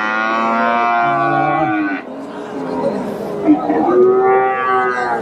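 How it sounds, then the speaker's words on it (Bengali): Heifer calves mooing at a cattle market in Kalampur Bazar, Dhamrai, Bangladesh: a long, loud drawn-out moo, then a break and further nearby lowing calls over market bustle. "এইগুলি সবই বকনা বাছুর।"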